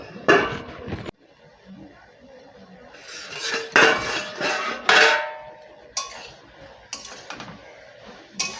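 A lid clatters onto a pan of small fish cooking with taro stolons, giving several sharp metallic clinks and rattles in short bursts with quieter gaps between them.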